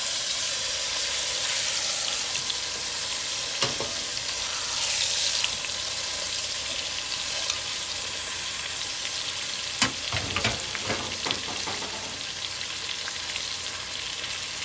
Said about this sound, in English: now we are going to add our flank steak to our Dutch oven cast